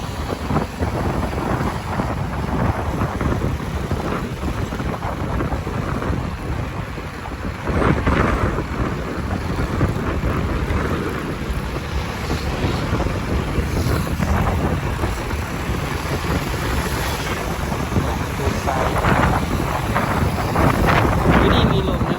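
Strong wind buffeting the microphone outdoors, a loud continuous rushing roar with gusts that swell and fade, under occasional voices.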